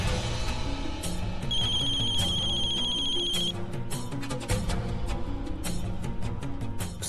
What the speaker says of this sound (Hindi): सिस्टी का फोन है, हम उससे बतिया के आते।